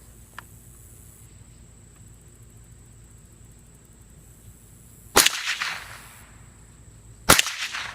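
Savage Model 64 .22 rifle firing at a gopher target and a small plate outdoors: two sharp, loud shots several seconds apart over steady insect-like background hiss, with no talk.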